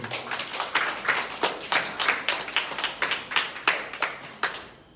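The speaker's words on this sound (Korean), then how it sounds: "박수로 한번." A church congregation claps in thanks after a rice cake offering, a quick run of distinct, fairly even claps with a slightly ragged rhythm, moderately loud and close, stopping abruptly at the end.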